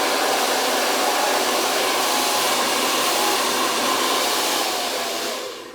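A NUME hair dryer running close by with a loud, steady airy whoosh and motor whine, easing down at the very end, with no talking.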